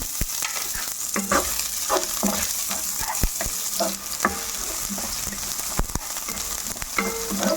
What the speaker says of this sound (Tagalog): I-add na natin yung onion.